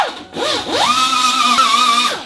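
A power tool with a grinding disc whines up to a loud, steady high pitch and winds back down while cleaning rivets on the body of a 1974 VW Super Beetle.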